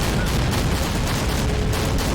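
A BTR armoured vehicle fires in the Army Men of War Battle Simulator video game, producing a dense, continuous roar of rapid gunfire at steady loudness throughout.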